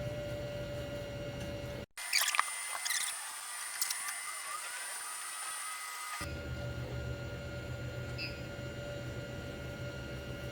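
A 3D printer prints a part meant to have a smooth surface finish. It buzzes faintly and steadily, with soft stepper-motor whirs and ticks over a constant background hum, and no one speaks.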